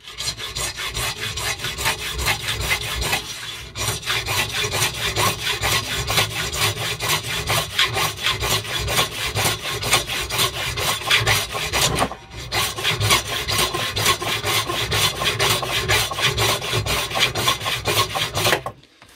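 A factory-made hand saw cutting brass with steady back-and-forth rasping strokes, loud and close, running continuously with two brief pauses.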